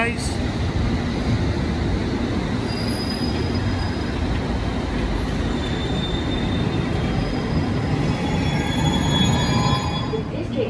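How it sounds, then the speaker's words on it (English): Train to Wimbledon, London, running with a loud, continuous rumbling roar and high wheel squeals drifting over it, heard from close by for the whole stretch. "Train to Wimbledon."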